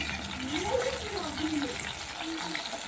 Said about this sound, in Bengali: দেখো মাছগুলোকে উল্টে দিচ্ছি একদম হালকা করে ভেজেছি দেখো একদম হালকা করে ভেজে নিয়েছি